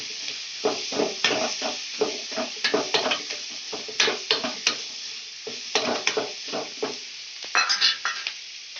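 Food is stirred and roasted in a pan: a steady rhythm of scraping, rattling strokes over a constant dry sizzle, close and fairly loud throughout.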